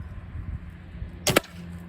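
An arrow tipped with a Turbo Knocks broadhead slams into 3/4 inch treated plywood with one sharp, loud crack over a low steady background hum.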